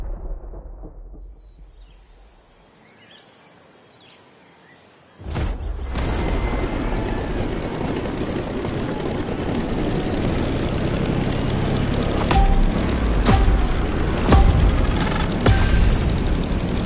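A propeller fighter plane, a Corsair, in The Crew Motorfest set in Hawaii, roars to life after a quiet start and holds a loud, steady engine drone through takeoff, with the pitch building toward the end.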